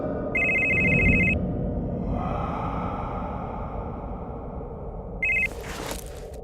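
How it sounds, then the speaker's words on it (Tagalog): A black cellphone rings with a loud electronic ringtone in two bursts, one near the start and another near the end, over a dark, murmuring background in a Tagalog horror story. "biglang mag-ring ang cellphone na itim na hawak"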